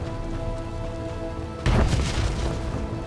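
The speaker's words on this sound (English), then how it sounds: "Explosions in my ears." A steady low rumble gives way to a sudden heavy blast that keeps crackling and rolling, an explosion in Star Wars: The Old Republic, with no talking.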